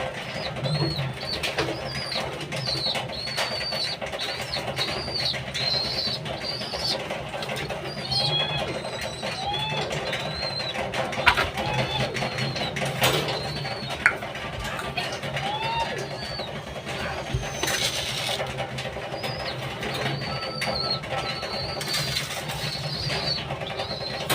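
Pet pigeons cooing steadily while being fed outdoors, soft repeated coos layered over constant background noise and faint distant rumble, with scattered brief knocks.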